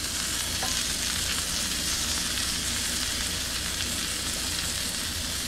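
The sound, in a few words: sausages sizzling on a grill after flipping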